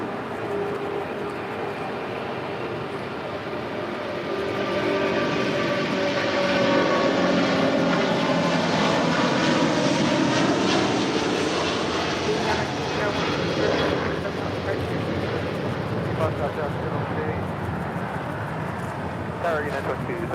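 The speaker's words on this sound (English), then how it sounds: "This is Asiana Airlines Flight 201 Super taking off to Seoul on the A380. Definitely got more of a roar with that takeoff." An Asiana Airlines Airbus A380 takes off with a loud, sustained engine roar that swells and holds for many seconds, with radio chatter and talk faint underneath.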